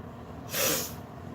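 A single short, breathy sneeze or snort bursts out once, close and fairly loud, over a faint steady room hiss.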